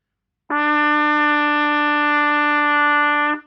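A single sustained trumpet note, E played with first and second valves, rings out steadily for about three seconds, clear and bright with rich overtones, played alone.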